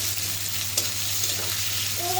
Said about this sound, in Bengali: আলুটা এখন এর সঙ্গে কষিয়ে নিব সুন্দর করে মশলার সঙ্গে